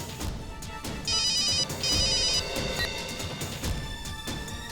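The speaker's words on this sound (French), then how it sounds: "Il faut que j'appelle ce numéro. Ça sonne." A telephone rings during a call with a bright electronic trill in two short bursts over a faint background.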